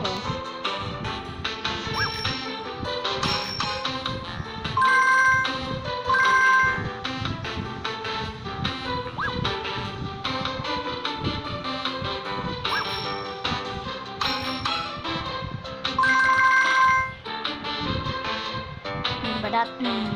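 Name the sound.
phone ringtone ringing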